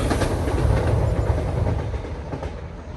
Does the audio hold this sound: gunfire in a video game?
no